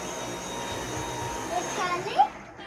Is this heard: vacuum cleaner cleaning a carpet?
yes